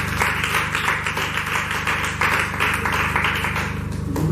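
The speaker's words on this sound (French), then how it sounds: "J'aimerais d'abord demander aux filles d'applaudir pour elles." Schoolgirls at a female school competition clapping for themselves, a brisk, uneven patter of many hands over a steady low hum from the room's sound system, fairly loud and continuous.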